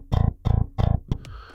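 An older EuroBass library plays a generic bass guitar slide: three punchy, distorted notes, then a quick slide with brief plucks that ends in a fading tail. The bass is close and solo, with no voices.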